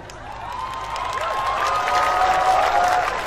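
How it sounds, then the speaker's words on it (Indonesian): An audience at an Islamic sermon breaks into a burst of clapping and crowd noise that builds and holds steady, fairly close and moderately loud. "Kenapa banyak orang tepuk tangan?"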